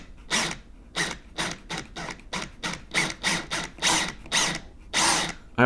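A power drill drives a screw into a door hinge in a series of short, sharp whirring bursts with brief pauses between, close and fairly loud.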